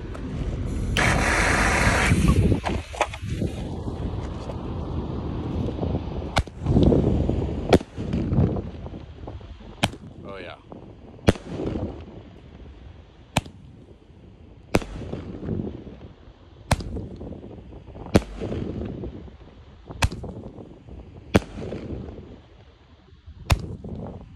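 Roman candle salutes from an 8-shot firework go off one after another outdoors: a long hissing launch, then sharp loud bangs at roughly regular intervals, echoing between shots.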